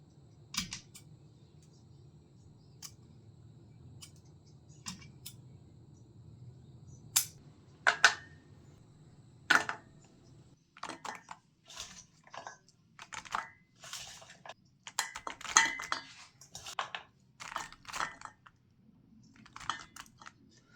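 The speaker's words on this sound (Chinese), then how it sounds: "毛豆好吃入味的关键还有一步，就是需要把毛豆的两端给它剪掉" Scissors trimming both ends off homegrown edamame pods, a long series of sharp, crisp snips at uneven intervals, sparse at first and then coming faster and denser, close up over a low background hum with no talking.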